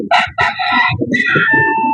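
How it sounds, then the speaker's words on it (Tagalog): A rooster crows loudly nearby in a few bursts, with low clucking sounds underneath. "Sila ang mga manok."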